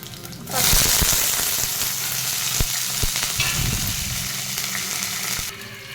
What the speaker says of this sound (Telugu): పచ్చిమిర్చి వేసుకొని బాగా ఫ్రై అవ్వనిద్దాము.